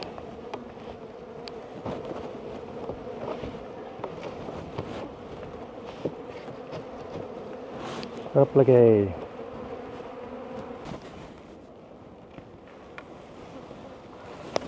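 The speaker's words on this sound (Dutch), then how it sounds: "En weer een mooie bak bijen." Honeybees buzz steadily at an opened hive during an early-season inspection, a dense close hum running throughout with a louder rising tone near the middle, while a person says a short word.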